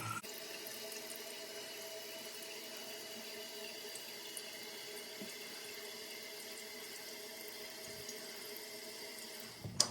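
A toilet tank refills after the water supply is turned back on during a weak-flush repair on a Kohler toilet, a steady hiss of running water continuing evenly throughout with a small clunk at the end.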